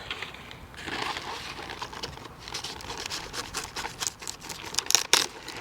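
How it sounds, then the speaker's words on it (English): A knife cuts through the thick stem of a stonehead cabbage at harvest in a garden during a heat wave, giving crisp, crunching and tearing sounds that build to a few sharp snaps as the head pulls free, with no talking. "cut the stem with the knife and pull it out"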